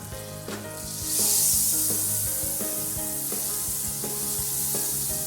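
Butter melting in a hot pan, a bright steady sizzle that swells early and holds, with a rhythmic background beat of music underneath.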